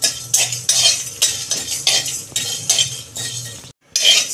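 A metal spoon stirs spices in a pan on low heat for amla pickle, scraping and clinking in a quick, irregular rhythm of close strokes, with a brief pause near the end before the stirring resumes.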